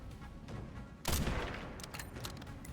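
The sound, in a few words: gunshot in the Resident Evil Requiem video game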